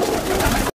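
Pigeons in a breeder's loft of high-flying Ali walay birds, a brief, close coo with soft throaty rolling, heard alone before cutting off abruptly.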